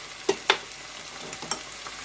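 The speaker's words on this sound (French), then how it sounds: "Je vais mélanger de nouveau." Spices (coriander and cumin) being stirred into a frying pan for a chicken coconut salan, giving a few sharp scraping clacks of the spoon over a soft, steady sizzle, close and fairly quiet.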